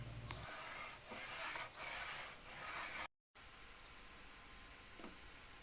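Steady abrasive rubbing rasps back and forth as sandpaper smooths wood on a wooden window, close up, with a brief silent break in the middle; no talking.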